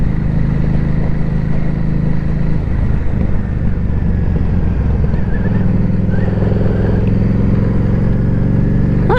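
A Harley-Davidson XG750 motorcycle rides along with a loud, steady engine drone and shifting revs heard up close from the rider's position, wind noise running underneath throughout.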